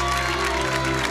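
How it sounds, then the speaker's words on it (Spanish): Applause from an audience in the stands for Emiliano at a dance competition show, a brief dense wash of clapping blended with a steady musical hum and a loud hall ambience. "Apláudanlo más."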